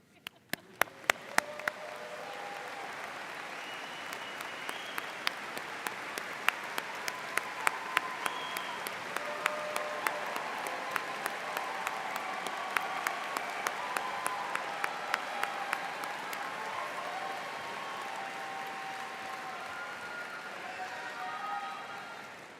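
An audience at a college commencement for natural sciences graduates applauds honors students, a steady, moderately distant wash of clapping lasting over twenty seconds, with a few sharp louder claps near the start and scattered through.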